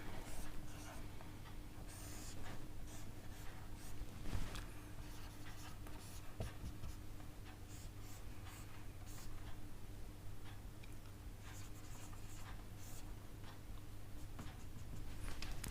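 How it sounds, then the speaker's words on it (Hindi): Pen scratching steadily across paper while a structural engineering problem on degree of static indeterminacy is written out, soft continuous strokes with small ticks over a low steady hum, no talking. "अब हम लोग क्वेश्चन लिखते हैं"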